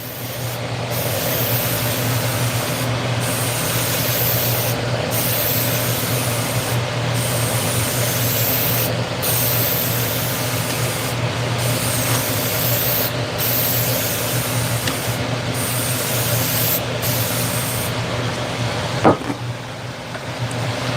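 A spray gun lays a coat of black lacquer finish over a cabinet piece in a woodworking shop: a steady, loud hiss in repeated bursts with short pauses between passes, over a low constant background hum.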